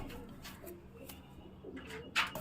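Pigeons, male and female birds, coo faintly in a quiet loft, with a few soft calls and one brief sharper chirp near the end.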